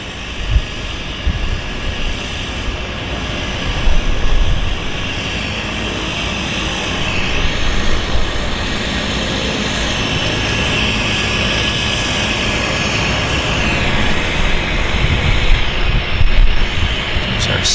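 A Caravan floatplane's propeller engine drones steadily as it arrives at Vancouver Harbour, growing slightly louder near the end, with wind buffeting the microphone.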